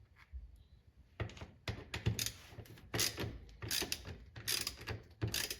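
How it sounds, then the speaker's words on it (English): A driver with a T28 bit works loose four bolts holding the original 48-volt charger on an EZGO RXV golf cart. It makes close, bursty ratcheting clicks in irregular clusters with short gaps between them. "we are going to use a T28 bit to remove 4 bolts"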